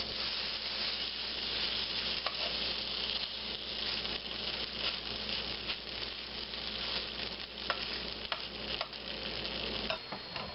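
A sausage-flavored fake meat patty sizzles steadily in a pan, a continuous close frying hiss with small crackles and pops throughout.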